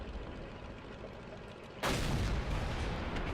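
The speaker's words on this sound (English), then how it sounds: "Shot went high, didn't fully aim." A tank cannon firing in World of Tanks, from an M18 Hellcat tank destroyer: a steady engine rumble, then one sudden loud blast partway through that leaves a heavy, sustained roar.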